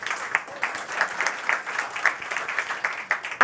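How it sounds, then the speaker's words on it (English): Applause from an in-person audience at a climate action summit on food, a steady patter of many hands clapping at moderate volume, with no voices over it. "Round of applause for those folks."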